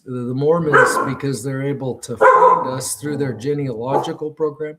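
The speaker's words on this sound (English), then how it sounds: "That's just my dog. She barks once in a while." A pet dog barks repeatedly indoors in a series of loud, tonal barks and yips, heard close by and mixed in with someone talking over it.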